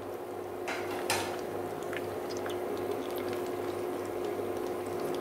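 Vegetarian mock pork fries in a pan until golden, a close, steady hiss and sizzle with a few light utensil clinks near the start and no speech.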